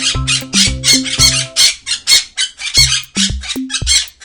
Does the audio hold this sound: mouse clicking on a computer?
no